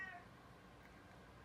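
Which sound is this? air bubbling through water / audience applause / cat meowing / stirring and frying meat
cat meowing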